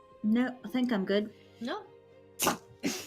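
A single loud, sharp sneeze bursts out after a stretch of conversational talk, followed by a second, smaller sneeze-like burst, with speech around them.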